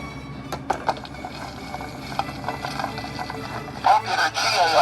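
A GAF Talking View-Master stereo viewer has its reel turned: a run of dry mechanical clicks and ratcheting ticks, close and fairly quiet, with a louder burst of clicking near the end and no talking.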